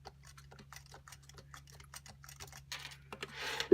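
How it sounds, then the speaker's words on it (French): A Perkins-style braille keyboard is typed on in a quick, irregular series of crisp clicks and taps, close and moderately loud, ending in a brief rustling burst. "on va écrire avec notre clavier Perkins"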